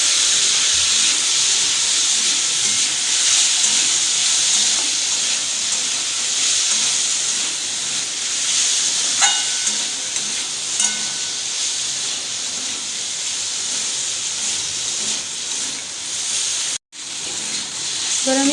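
Steady loud hiss of chicken chorchori frying with turmeric and whole chillies as the steam is turned down, a continuous sizzle holding throughout with a brief drop near the end.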